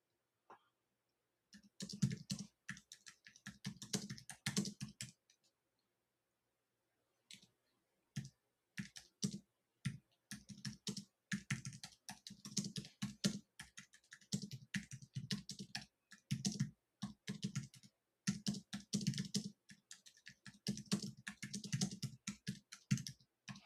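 Someone types on a computer keyboard while searching the internet, fast bursts of close, crisp key clicks separated by short pauses, including one longer gap near the start, with no speech.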